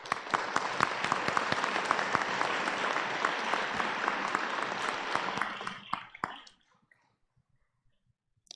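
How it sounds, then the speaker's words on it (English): A graduation audience at a spring arts and humanities ceremony breaks into dense, sustained applause for about six seconds, then the clapping thins out and falls to near silence with a few scattered final claps. "Give yourself a round of applause."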